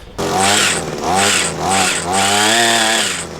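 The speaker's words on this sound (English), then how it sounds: "So super easy to trim up the side of some trees or bushes." A Wild Badger Power 4 in 1 garden tool trims trees and bushes, its motor whining loudly and close in several surging bursts that rise and fall in pitch as it cuts.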